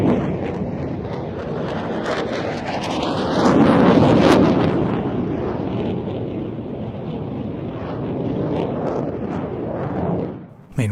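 JF-17 and F-16 fighter jets flying aerobatic manoeuvres give a loud, broad jet roar that swells to a peak around mid-pass and then sustains as a distant rumble before cutting off abruptly at the end.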